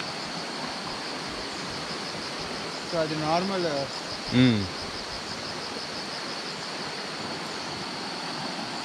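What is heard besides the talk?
flowing stream water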